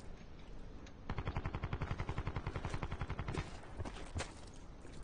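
Automatic gunfire in Call of Duty Black Ops 4 Blackout, a long rapid burst of evenly spaced shots, loud and close, that breaks off into a few scattered single shots.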